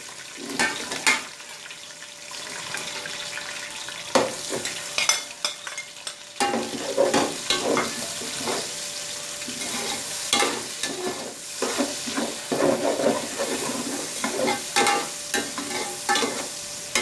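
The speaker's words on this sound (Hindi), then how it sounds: "इसी में अब आप अपना प्याज ऐड कर देंगे।" Onions sizzle loudly in hot oil for a desi chicken curry, a continuous frying hiss punctuated by repeated stirring and scraping against the pan, growing busier after the first few seconds.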